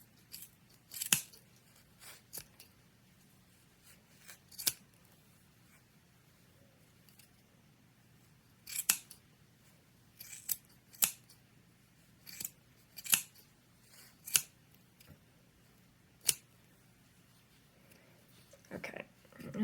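Sharp scissors snip through yarn while trimming a pompom, in short, crisp cuts scattered irregularly, some in quick pairs, with quiet pauses between them.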